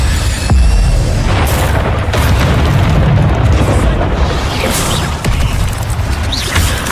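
The Incendio fire spell in Hogwarts Legacy roars as a sustained rumbling whoosh with low booming bursts and crackling flame texture, loud and continuous for several seconds.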